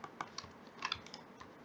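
Soft computer keyboard and mouse clicks come in an irregular run of light taps, close and quiet, while a 3D metrology robot measurement setup is operated.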